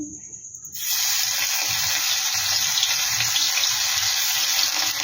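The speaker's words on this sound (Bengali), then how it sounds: "একটু হালকা করে একটু ভাজা ভাজা করে দিই," Grated ginger, garlic and green chili hit hot mustard oil, and a loud, steady sizzle bursts in suddenly after a quiet moment, then holds close and even to the end.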